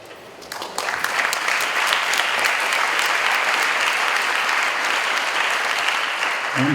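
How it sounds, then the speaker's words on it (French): Sustained applause from a crowd, starting abruptly and continuing steadily at full strength until the end. "Merci pour vos applaudissements pour Maëlys"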